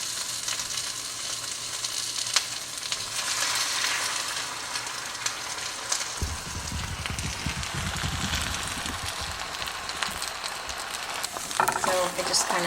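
Egg whites and vegetables cook together in a skillet with a steady, quiet sizzle, joined near the end by a few louder scrapes and shuffles from the pan.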